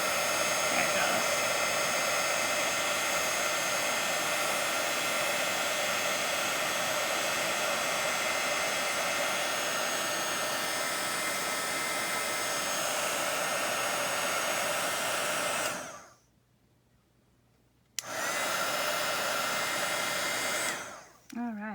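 Heat embossing gun blasting a steady, loud broadband roar while melting embossing powder on an artist trading card, cutting out abruptly for about two seconds near the end before roaring back on briefly.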